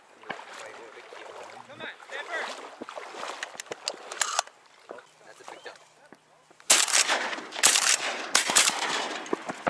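Shotgun blasts ring out during a duck hunt, several sharp reports in quick succession, with people talking between the shots.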